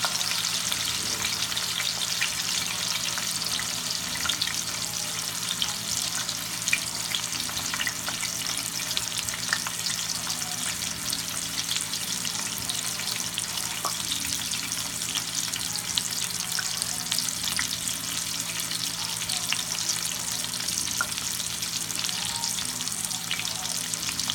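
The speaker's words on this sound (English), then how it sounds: "You sear the other side." Pot roast meat searing in a hot pan, a loud steady sizzle and frying hiss that runs without a break, close up and with no talk over it.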